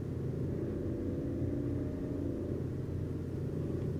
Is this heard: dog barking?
no